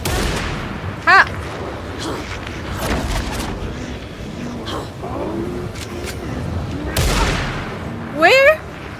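Sniper gunfire during a firefight in Alan Wake II, several sharp cracks spaced across the scene, a couple standing out loudly near the start and end amid busy game noise and a voice talking.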